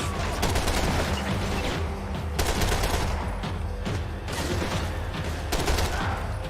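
Sustained gunfire from a Max Payne 3 firefight, dense overlapping shots and bursts with sharp louder cracks recurring throughout, loud and continuous with no talk over it.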